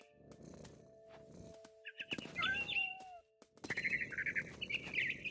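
Chirping birdsong in the video game What Remains of Edith Finch, bright warbling calls in short bursts over a soft low rumble, loudest near the end, with no speech.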